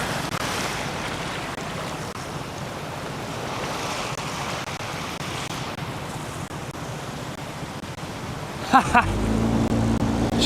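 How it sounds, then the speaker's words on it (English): Big whitewater waves roar steadily in broadband rush while a safety boat follows paddle rafts downriver, with wind buffeting the microphone and a short burst of engine or thump near the end. "those are some massive waves she's going through"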